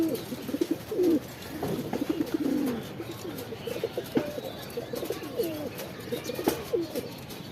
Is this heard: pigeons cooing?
yes